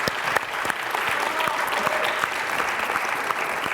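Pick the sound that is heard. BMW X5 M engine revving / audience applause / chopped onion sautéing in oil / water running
audience applause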